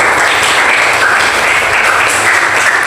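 Loud, dense applause from a class of students at an Indonesian lesson on combined and shortened prayers, a steady wash of many hands clapping with no breaks.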